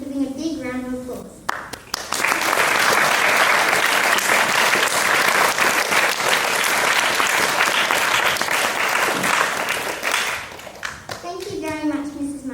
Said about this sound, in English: So everyone please join us in giving a big round of applause.